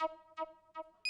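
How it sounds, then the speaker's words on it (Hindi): A phone rings close by with a warbling electronic tone in three evenly spaced pulses, followed by a sharper, higher beep cutting in at the end. "आपका फोन बज रहा है।"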